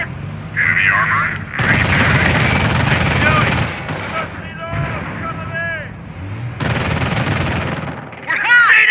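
Gunfire in the World War II strategy game Company of Heroes, loud bursts of machine-gun and rifle fire in repeated volleys, with battlefield voices and radio-style unit chatter mixed in.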